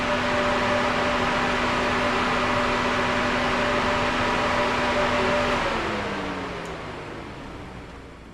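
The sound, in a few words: truck radiator cooling fans running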